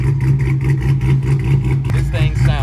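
A Dodge Hellcat V8 engine with a big aftermarket cam idles with a loping, choppy rumble, close and loud, pulsing unevenly before a brief rev near the end.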